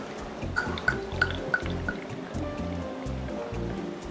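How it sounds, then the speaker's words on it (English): Stock syrup is poured into Bajan cherry juice, giving a steady liquid pouring and splashing sound with a few sharp drips and glugs, close and continuous. "This in here is a stock syrup, as I said. This is about 2 cups of it. So we're going to add this right in here."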